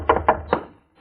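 Close, solid knocks at a door in a radio drama: three evenly spaced raps, a short pause, then a fourth, with no voices.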